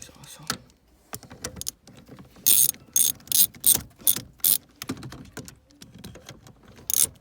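A ratchet works loose the base bushing bolts on an 8th-gen Honda Civic Si, with quick clicking bursts alternating with pauses and light handling noises, close and clear.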